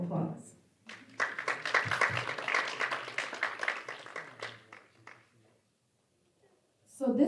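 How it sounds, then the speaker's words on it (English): A community gathering audience gives a round of applause, a few seconds of moderate mixed clapping that fades out into quiet before a voice resumes. "Round of applause."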